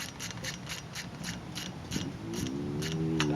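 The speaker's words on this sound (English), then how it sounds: "Nice little ratcheting wrench is good." A small ratcheting wrench clicks in a steady, rapid series while tightening the rim lock on a 2009 Dunlop motorcycle tire change, close and clear, with faint mechanical rubbing underneath.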